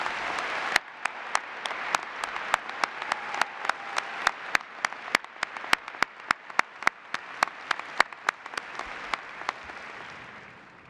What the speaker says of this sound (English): can we please give all of our new doctors of education a rousing round of